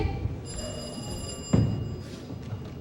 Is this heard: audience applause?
no